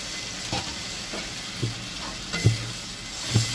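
Spices stir-fry in a pan with a soft, constant sizzle, broken every second or so by a spatula scraping and knocking against the metal, the strokes growing slightly louder toward the end.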